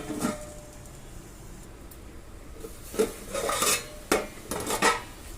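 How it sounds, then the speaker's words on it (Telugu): Onions and fish curry are stirred in a cooking pot, a spoon scraping and clinking against the metal in a few short bursts, close and moderately loud, with quiet gaps between strokes. "ఇలా వేసుకున్న తర్వాత ఒకసారి కలిపేసుకుని మూత పెట్టుకుని మగ్గించుకుందాం"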